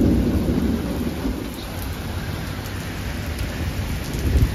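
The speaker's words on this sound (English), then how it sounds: "I'm getting this torrential rain." Torrential rain lashes down in a nighttime downburst storm, thunder rolling loudly at the start and again at the end beneath a constant heavy roar of falling water.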